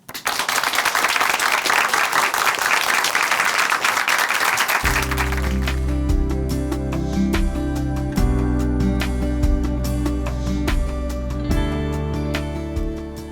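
A church audience breaks into steady, dense applause that fills the first five seconds, then gives way to a sustained background of music and scattered noise continuing to the end.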